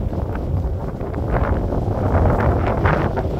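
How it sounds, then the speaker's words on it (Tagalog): Strong wind buffets the microphone in a steady, rough rush, gusting slightly louder toward the end. "Pati yung hangin, dito ang punta. Dito po yung paling ng hangin."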